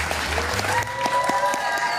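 A crowd applauds at a Trump rally in a brief burst of clapping, with voices talking over it.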